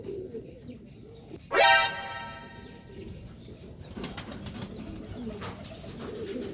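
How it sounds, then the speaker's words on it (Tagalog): Racing pigeons at the loft, with a loud burst of wing flapping from one bird, then soft bird sounds and faint cooing over steady outdoor background noise. "Bird na naman mga idol."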